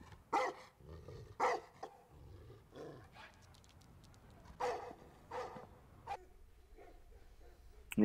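Dogs bark in a horror drama scene, several sharp separate barks spaced through the first half and a few more later, moderately near over a quiet, low background with no talk.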